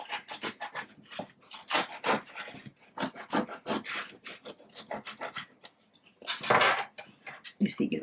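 A knife saws back and forth through a bread loaf, giving repeated close, crisp rasping strokes in an uneven rhythm with brief pauses between cuts.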